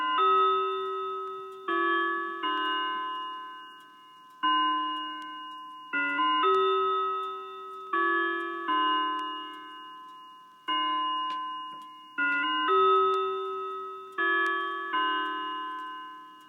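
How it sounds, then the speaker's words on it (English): A Howard Miller Lambourn wall clock plays the full Ave Maria chime and then strikes the hour, its clear ringing notes sounding in steady phrases that each decay slowly, in a quiet room. "now here's a full Ave Maria chime with the hour strike."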